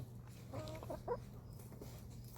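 A chicken gives a couple of soft, faint clucks in the middle of a short stretch, set against a steady low hum.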